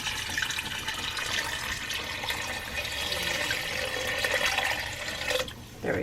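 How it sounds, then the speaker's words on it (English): Water poured into a cooking pot over chunks of meat with garlic and onion, a steady splashing rush that runs for several seconds before stopping abruptly near the end. "I'm gonna add water"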